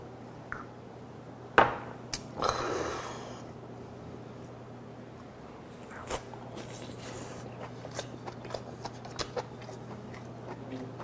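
Someone chews steamed jumbo lobster during a seafood meal, making quiet, close, wet crunching and biting sounds with irregular soft clicks and a few sharper bites.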